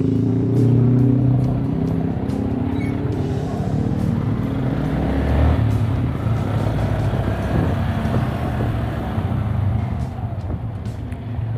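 Cars and a bus idle and creep along in a traffic jam, a steady close engine rumble with occasional revving and passing vehicle noise.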